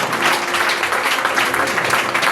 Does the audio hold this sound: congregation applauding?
yes